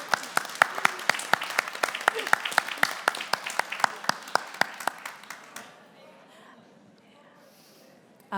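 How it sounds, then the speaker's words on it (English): Audience applause for panelists at a wool heritage showcase event in Ireland, a small crowd's distinct, sparse claps rattling for about five seconds before fading into quiet room tone. "We might give them a round of applause."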